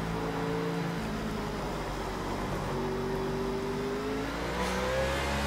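Race cars in the iRacing NASCAR series video game at Sonoma, with a steady engine drone and rising revs as cars run close together, a continuous mid-level roar with no talking.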